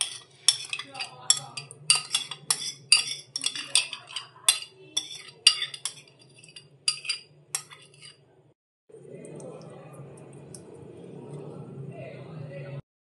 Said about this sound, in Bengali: তারপরে এই বেগুনগুলো মিশিয়ে দিলাম।